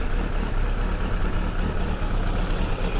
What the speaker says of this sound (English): got the revs settled down a bit, just adjusted the tick over